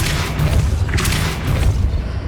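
A Depulso force spell in Hogwarts Legacy on PS5 lands as a heavy, loud boom with a deep thudding rumble, sustained for a couple of seconds amid game combat noise.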